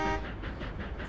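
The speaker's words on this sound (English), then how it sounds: "I like the 765 whistle probably the best." A steam locomotive whistle from the 765 engine in Trainz Simulator 2012, a brief loud blast fading into rumbling train noise.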